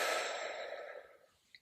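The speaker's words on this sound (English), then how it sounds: "take a deep breath" A single long, audible exhale of a deep breath taken before applying winged eyeliner, close and soft, fading over about a second and a half, with a faint click at the very end.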